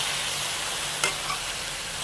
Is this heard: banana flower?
yes